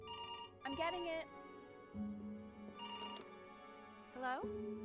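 A telephone rings in the video game Before Your Eyes, giving three separate warbling bursts of bell-like tone spaced across the moment, with soft game ambience underneath and no talking.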